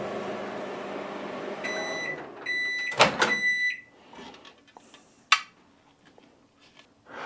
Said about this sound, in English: those of you that have the bigger 1100 watt microwaves, let's go ahead and try that